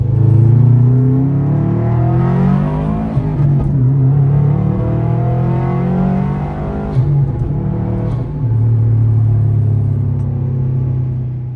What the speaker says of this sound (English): we got the muffler welded back on. Someone had just chopped it off, and so they threw it in here, and it's a little loud in the car.